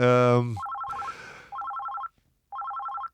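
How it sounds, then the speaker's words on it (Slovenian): A telephone rings in short trilling bursts, three separated rings with pauses between, preceded by a brief voice and a rustling noise. "Telefonski klic je in..."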